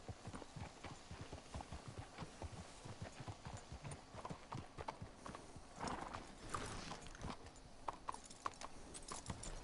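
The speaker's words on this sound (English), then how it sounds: "Let's hitch the horses up ahead." Horse hooves clip-clop steadily on the ground in Red Dead Redemption II, with a whinny partway through. The steps are near and distinct, with no talk over them.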